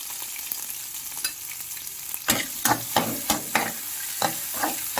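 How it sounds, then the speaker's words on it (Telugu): Tempering seeds fry in hot oil in a pan for a bean curry, a continuous crackling sizzle broken by several sharp scraping stirs near the end, with no talking. "సరిపడా ఆయిల్ వేసుకొని తాలింపు గింజలు వేసుకుంటాను"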